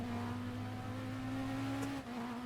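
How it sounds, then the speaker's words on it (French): A hybrid hypercar in the racing game RaceRoom holds a steady, droning engine note that climbs slightly in pitch, then briefly dips near the end as it carries on, loud and close with no talking. "le bruit de la voiture avec l'hybride qui passe"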